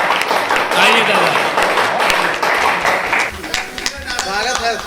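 Clapping from a crowd at a Hindi comic poetry gathering (hasya kavi sammelan) runs as a rough, steady patter while someone speaks over it and a poet is welcomed to the stage.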